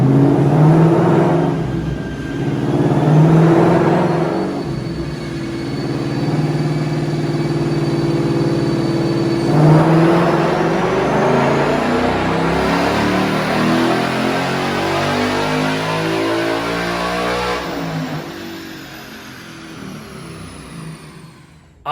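A twin-turbo 2021 Mustang Mach 1 with a Gen 3 Coyote engine and six-speed manual, revving on a dyno, a loud sustained engine note climbing steadily in pitch through long pulls, with no talking.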